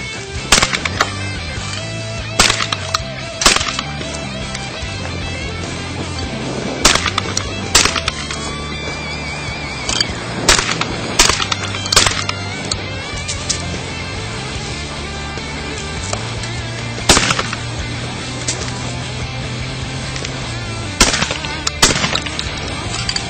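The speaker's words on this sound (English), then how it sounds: "All I can say about the Extrema 2 is you just have to shoot one to appreciate it." Shotgun blasts from a Beretta Extrema 2, sharp loud reports fired at irregular intervals across the whole stretch, each with a short ring-out, over a steady musical bed.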